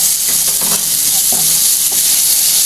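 Tomatoes sizzle and fry in a pan for egg molly, a loud, continuous hiss with occasional stirring scrapes.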